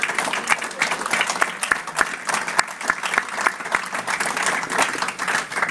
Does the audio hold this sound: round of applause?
yes